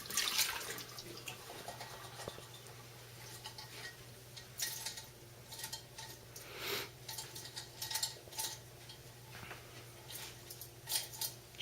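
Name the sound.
rinsing a pot under running water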